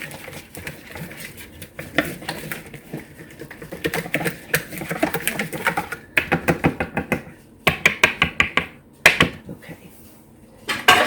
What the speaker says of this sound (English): let's whisk all this together